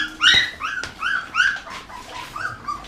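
Labrador puppies whimper and yip at feeding time during weaning, a run of high, thin, wavering cries repeating close by, fairly loud and steady throughout with no talk over them.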